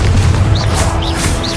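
A Confringo fire spell bursts in Hogwarts Legacy, a loud low boom at the start followed by a rumbling tail with faint whooshing spell effects repeating.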